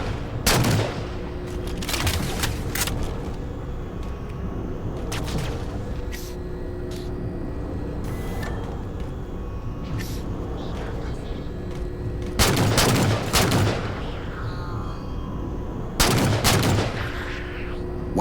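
Gunfire rattles and booms against a ship during Halo 4 gameplay, with loud bursts of shots and impacts over a continuous rumbling engine drone, heaviest near the start and in two strong volleys later.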